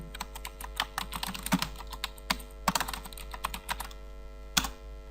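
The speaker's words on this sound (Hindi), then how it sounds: "एंटर प्रेस करता हूँ, डन।" Close typing on a computer keyboard, a quick irregular run of clicking keystrokes with a few louder key presses such as Enter, over a steady low hum, no speech.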